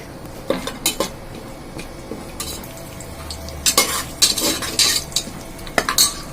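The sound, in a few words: sautéing spices and green chilies in a pan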